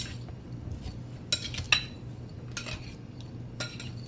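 A spoon stirs a steamed angelfish sauce seasoned with white pepper in a dish, making light scattered clinks and scrapes, a couple of sharper taps, over a quiet low hum.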